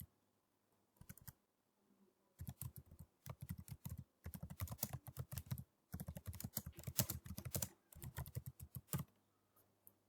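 Typing on a computer keyboard while writing a LaTeX document in Overleaf: fast, close key clatter in several bursts separated by short pauses, fairly quiet and with no talking.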